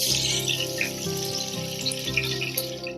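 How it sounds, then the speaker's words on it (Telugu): Cooking oil, about 100 ml, is poured into a pan in one continuous close, bubbling liquid stream that lasts the full three seconds without pause. "ఇప్పుడైతే ఒక 100 ml ఆయిల్ అయితే వేస్తున్నానండి."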